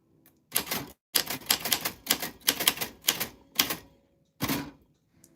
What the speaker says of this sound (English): that's what your name sounds like on a typewriter.